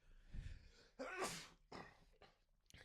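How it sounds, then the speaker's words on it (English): A single close sneeze, starting with a short breathy inhale and ending in a sharp burst, followed by a couple of faint sniffs. "I have to sneeze."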